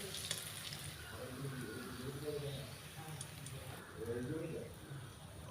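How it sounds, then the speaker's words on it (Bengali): Teasel gourd with turmeric fries in oil, a soft steady sizzle with light stirring scrapes, faint and close, while someone talks over it. "এগুলিকে খুব ভালোভাবে আমরা ভেজে নিয়েছি।"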